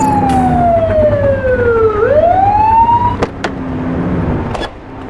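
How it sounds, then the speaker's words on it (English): A police car siren sounds in the video game The Precinct, loud and close, with a long falling and rising wail followed by several sharp short chirps over the hum of the car. "Get behind them and flip the siren to make them pull over."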